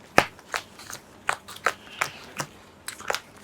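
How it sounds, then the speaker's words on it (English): Deck of board game cards for a solo Monumental session shuffled by hand, a string of crisp close riffles and snaps arriving in uneven bursts, with no talking over them. "I have to shuffle all these cards."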